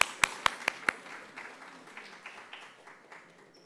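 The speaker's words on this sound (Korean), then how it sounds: "우리 박수로 환영해 주시면 고맙겠습니다." An audience at a church pastors' seminar claps to welcome a speaker: a few sharp, loud individual claps at first, then a scattered round of applause that thins and fades.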